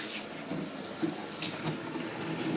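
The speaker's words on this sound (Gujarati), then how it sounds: "પછી એમાં એક ગ્લાસ પાણી નાખવાનું ઠંડુ" A glass of cold water is poured into a pot of cream that is being cooked down into ghee, making a steady, close splashing stream that runs through the whole moment with no talking.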